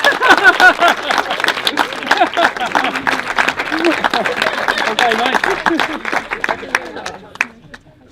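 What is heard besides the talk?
wedding guests applauding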